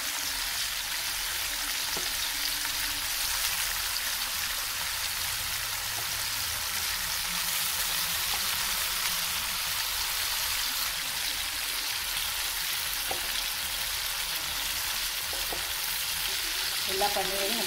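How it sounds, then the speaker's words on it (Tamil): Paneer cubes fry in hot oil with a dense, steady sizzle and bubbling, like rain on a surface, continuous and close throughout, with an occasional faint tap and no speech. "அதுக்கு பன்னீரை எடுத்து நம்ம எண்ணெயில் போட்டிருக்கோம், பார்க்கலாம்."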